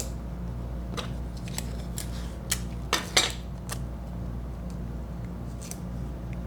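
Scissors snipping material, trimming ends and cutting small V notches, a scattering of short crisp cuts with a quick cluster in the middle, quiet over a low steady hum, no talking.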